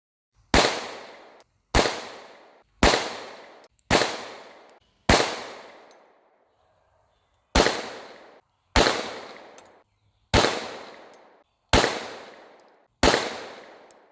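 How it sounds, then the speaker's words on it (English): Glock 17 Gen 5 pistols, one with C-Cut porting, firing sharp loud single shots: five evenly spaced, a pause, then five more, each ringing out briefly outdoors. "First up is going to be the Glock 17 Gen 5. This is the one with the C-Cut porting from the GlockStore."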